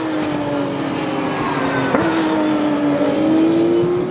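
A Porsche race car engine drones at high revs on the Paul Ricard circuit, loud and sustained, with its pitch holding level and then rising slightly as it accelerates.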